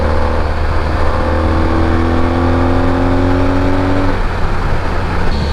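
A Honda ST1300 motorcycle engine drones steadily and loudly while being ridden along a winding Vermont highway, with a constant low rumble and rising whine that shifts slightly partway through.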